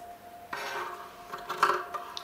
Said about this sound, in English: I've got the scissors ready to cut round the edge, slightly bigger than the triangle